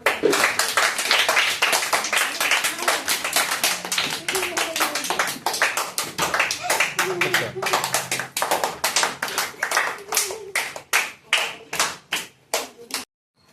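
Students in a classroom clap for a classmate receiving a small prize, a dense run of close hand claps that thins out toward the end into a few separate, uneven claps, with faint voices underneath.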